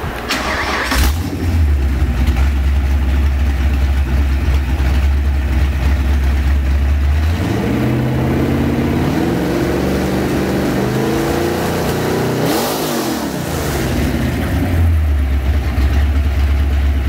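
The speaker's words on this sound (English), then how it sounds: "331 Ford Stroker engine, ran absolutely perfect" A 331 Ford stroker V8 with Edelbrock heads and a roller cam, about 415 hp, cranks and starts, settling into a loud, steady, lumpy idle with brief rises in revs, close by with no talking.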